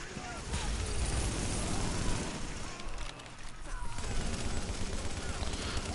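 Grenade blast amid sustained gunfire in The Division video game, loud and dense throughout with rapid shots and a rumbling low end, a voice talking over the battle.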